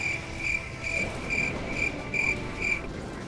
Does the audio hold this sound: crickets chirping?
yes